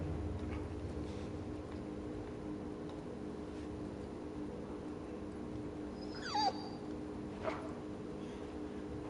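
A dog in the video game The Last of Us 2 lets out a couple of short, high whimpering yelps midway, brief and fairly faint over a steady low game ambience.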